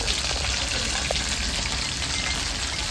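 Rohu fish pieces fry in hot oil with a steady, dense hiss and crackle that holds evenly throughout, close and moderately loud with no talking.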